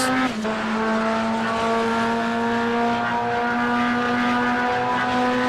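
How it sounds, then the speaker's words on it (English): A Chevrolet Corvette GT3 race car engine drones loudly and steadily at high revs, its strong harmonic tone holding close and continuous during an endurance race, with no talk over it. "Listen to that engine of that car there."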